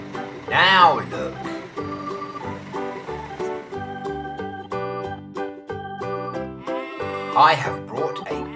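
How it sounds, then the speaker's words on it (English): A goat bleats in two loud, wavering cries, one at the start and one near the end, set against light instrumental music. "I have brought a goat."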